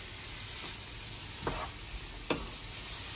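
Seasoned vegetables for Jamaican rasta pasta, spiced with jerk seasoning, stirred in a pan over a steady soft sizzle, with two brief louder scrapes of the spoon.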